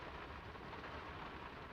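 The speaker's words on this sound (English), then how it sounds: "It's getting late, and the rain's not abating." Steady, dense rain pours down in a village at night in the game Draugen, a continuous even wash of falling water with a low rumble beneath and no voices.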